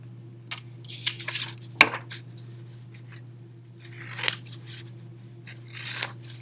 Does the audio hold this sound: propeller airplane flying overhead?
no